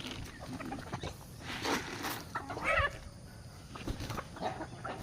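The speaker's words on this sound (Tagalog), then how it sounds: "Yan yung mga makukulit kong manok." Pet chickens cluck amid steady outdoor background noise, with a brief louder cackle in the middle, fairly distant and faint.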